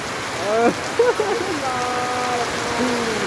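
Heavy rain pours steadily in a broad wash of noise while voices talk over it intermittently.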